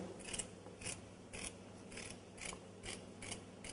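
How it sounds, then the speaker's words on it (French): Fish scissors trim the fins from a sole in quick, regular snips, roughly two per second, each a short crisp metallic cut, heard close and faint with no talking. "on commence par ébarber la sole, c'est-à-dire retirer les nageoires comme celle-ci. À l'aide d'un ciseau à poisson,"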